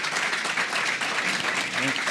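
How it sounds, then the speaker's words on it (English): A large audience at a talk and book-signing event gives sustained applause, thick even clapping from many hands with a faint voice near the end. "But give a big round of applause to these folks for coming."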